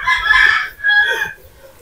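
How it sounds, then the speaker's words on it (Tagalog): A rooster crows in the background of a home, giving a short, loud two-part call with a brief dip between the parts before it trails off. No one speaks. "Pero sigurado akong titilaok ang manok talaga sa background."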